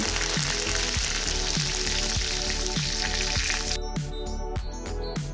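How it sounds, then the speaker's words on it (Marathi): A bowlful of curry leaves fries in oil for murmura chiwda, giving a loud, dense, continuous sizzle with a faint rhythmic scraping of a ladle beneath it, no voices. "एक वाटी मी कढीपत्त्याची पानं घातली आहे ती पण छान तळून घेऊ"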